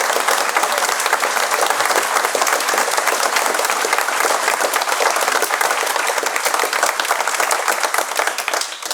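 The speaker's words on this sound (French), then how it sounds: "Merci d'applaudir chaleureusement Alban Colombet." An amateur theatre audience at a village troupe's play claps warmly in a dense, continuous roar of applause that stays steady and loud before tapering slightly at the very end.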